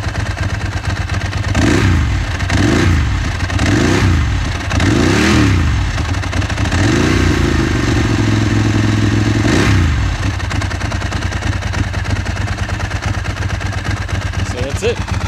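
A Ducati 996 motorcycle engine blips through several quick revs, each rising and falling close by, then holds a steadier higher note for a few seconds before dropping back to a rumbling idle.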